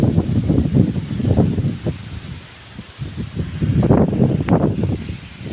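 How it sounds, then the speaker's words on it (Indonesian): A very strong wind storm sweeps through an oil palm plantation at midday, with steady, loud roaring gusts and rustling foliage filling the scene throughout, swelling and easing in waves. "Anginnya sangat kencang kali, bahkan egreknya gitu dinaikkan pun terbawa angin."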